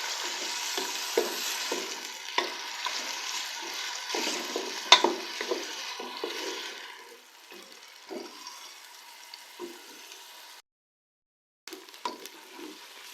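Onions fry hard in a pot over a high flame for a degi-style korma, giving a steady close sizzle broken by repeated scraping stirs of a spoon. The sizzle fades lower toward the end, with a brief silent gap near the finish.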